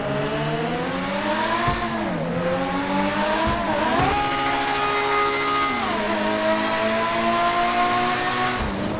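Inside a tunnel in GTA 5 Online, an Overflod Autarch supercar's engine drones loud and close, pitch climbing through gears with brief dips at each shift, reverberant and without speech.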